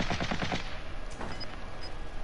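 Video game gunfire in a battle-royale style match, rapid automatic rounds rattling early on, then scattered shots fading under a steady background, moderately loud.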